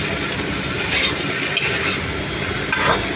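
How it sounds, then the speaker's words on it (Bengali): Food fries in a pan under a steady, close, dense sizzle, with a few brief stirring scrapes breaking through the hiss. "একটু নাড়াতে হবে।"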